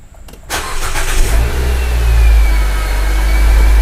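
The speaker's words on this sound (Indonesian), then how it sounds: "biasanya kebanyakan mobil itu ketika awal start dia tuh RPM nya masih tinggi seperti ini" An automatic-transmission car cranks briefly and starts, then settles into a loud, steady high-RPM idle with a deep rumbling drone, heard close with no talking.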